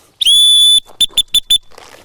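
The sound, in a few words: dog training whistle being blown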